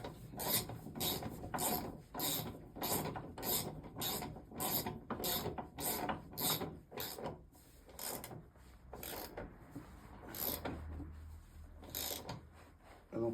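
Wrenches tightening the brake bolts on a motorbike during a disc and pad change, making a close, rhythmic series of rasping metal clicks and scrapes that slows and thins out toward the end.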